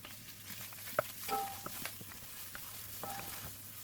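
Ginger garlic paste is stir-fried in hot oil with clove, star anise and curry leaf. A faint, low sizzle runs throughout, broken by scattered light clicks and scrapes of a stirring utensil.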